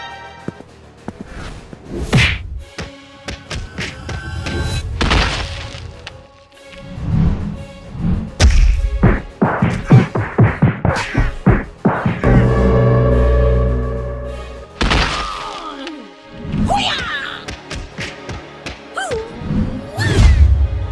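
Cartoon fight action delivers a hard kick and a run of punchy thumps, whacks and whooshes, loud and close, scattered among dramatic sound effects and musical stings.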